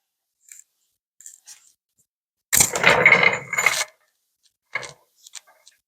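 Floor jack worked under a 1969 GMC C10 pickup in a shop, giving a burst of ratcheting mechanical clatter and clanks lasting about a second, with scattered small clicks before and after.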